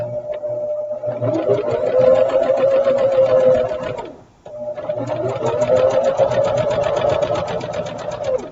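Sewing machine running close by as it stitches a quilt block seam, a steady whirring drone that pauses briefly in the middle before starting again, with no voices.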